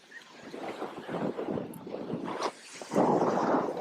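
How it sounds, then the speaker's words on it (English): Strong wind buffets the microphone on a beach, a rough, gusty roar that swells and dips and grows loudest near the end, with no voices. "too windy"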